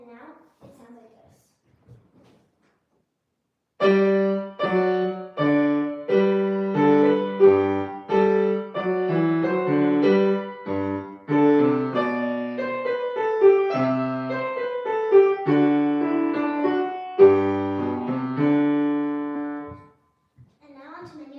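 A minuet played on piano, a clear solo melody of steady, evenly paced notes in a consistent tempo, close and fairly loud, starting after a short quiet lead-in and ending with a held final note.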